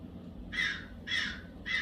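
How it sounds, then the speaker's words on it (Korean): Crows caw loudly during a stage play: three harsh, evenly spaced caws, each about a quarter second long, over a low, quiet background. "요란한 까마귀 소리 들린다."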